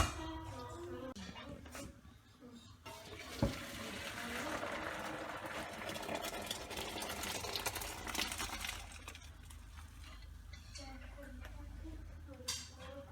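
Water pours off nearly cooked rice for chicken biryani as it is drained, a steady splashing rush with metallic clinks from the pot, while a voice talks over it.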